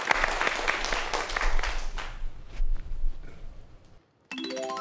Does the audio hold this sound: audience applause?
yes